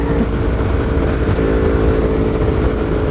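A Yamaha R1M sport motorcycle engine roars steadily while riding, a loud continuous drone with harmonic engine tones and wind rush, no pauses across the stretch.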